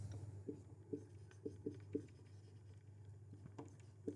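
Chalk or marker writing on a board during a Class 10 physics lecture on current electricity, heard as a series of short scratchy taps and strokes in irregular rhythm, close and fairly faint over a low steady hum.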